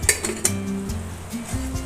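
Pumpkin curry with red chilli powder is stirred in a pan. A few quick metallic clinks and scrapes sound close by over a low hum and faint sizzle, in a brief burst with no speech.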